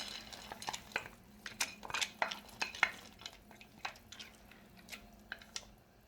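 A spoon scrapes and knocks against a pot of pea soup with carrots and meat in irregular strokes, with soft sloshing and occasional clinks, close and fairly quiet.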